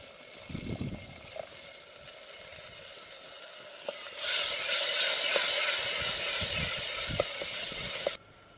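Masala with turmeric sizzles steadily in a pan, then water is poured in and a much louder hiss and sputter erupts for several seconds before cutting off abruptly.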